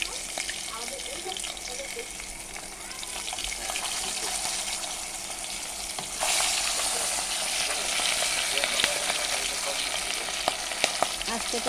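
Hilsa fish frying in oil in a home kitchen, a steady close crackling sizzle that grows louder partway through, with faint clatter and light background voices.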